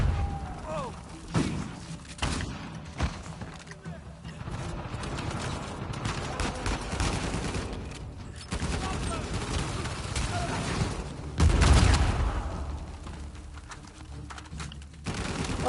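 Explosions and gunfire from the video game Uncharted 4 burst out in a dense, busy mix of blasts and rapid shots, with a louder thump near the end, while a player talks over the action.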